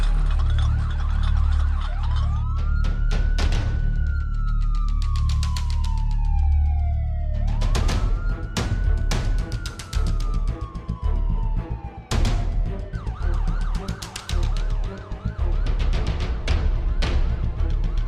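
A police car siren wails in long rising and falling sweeps, loud and close, while sharp clattering bursts and rumbling noise sound over and between the sweeps.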